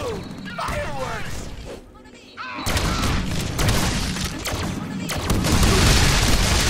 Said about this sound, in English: Woohoo! Fireworks!